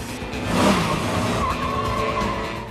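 A James Bond car drifts hard around tight corners in a chase, tires squealing loudly over a steady engine roar that swells early, then holds as a sustained screech.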